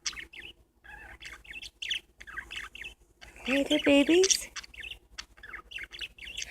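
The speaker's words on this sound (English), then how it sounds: "These are my beloved birds." Pet parakeets chirp and squawk indoors in short, bright bursts, with one louder warbling call in the middle, while someone talks softly to them.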